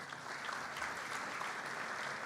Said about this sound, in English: please give your parents a round of applause they richly deserve